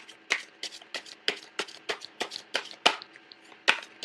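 Tarot cards drawn and slapped from a deck, a close, quiet series of about a dozen sharp papery snaps and flicks at an uneven, quick rhythm, with no talking.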